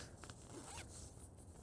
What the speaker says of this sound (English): 2 snaps, a zipper